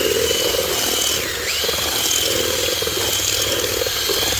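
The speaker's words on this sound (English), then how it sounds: "I got the drill with the mixer on it, and I'm just going to be mixing these to a nice consistency" A power drill with a paddle mixer whirs steadily for several seconds, mixing SpreadRock pool deck coating, a continuous motorized drone with a slight dip in pitch partway through, as if churning a thick mix.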